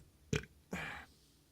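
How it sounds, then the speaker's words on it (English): Two short burps after drinking Ichnusa beer, the first a quick abrupt gulp and the second a longer, drawn-out belch, close and fairly quiet in an otherwise still room. "If I burp is a sign of a good beer"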